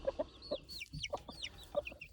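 Hens and roosters cluck in short, close bursts, several birds calling in quick succession with sharp, bright notes over a quiet background.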